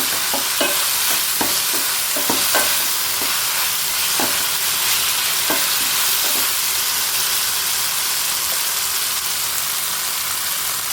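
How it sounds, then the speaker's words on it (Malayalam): Tomatoes and ginger sautéing in a pan for a chutney, a constant loud sizzle and hiss with irregular stirring scrapes and taps of a spoon, close up, with no speech. "ഇപ്പോൾ തക്കാളി ഒന്ന് നന്നായിട്ട് വഴന്ന് വരാൻ തുടങ്ങി"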